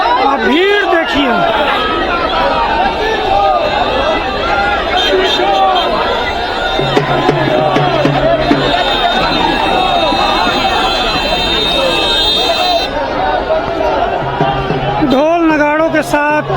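A large, dense crowd at a Mahagathbandhan rally in Patna with Rahul Gandhi fills the streets with continuous loud chatter and shouting, a steady hubbub throughout with occasional horn-like tones.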